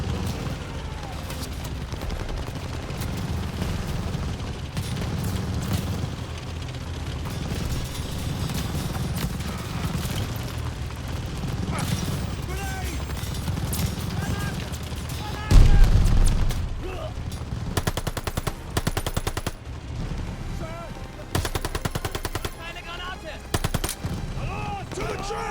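Enemy machine gun fire in Call of Duty Vanguard, sustained rapid bursts of gunfire with loud shots and a heavy blast midway, amid battlefield noise and shouting soldiers.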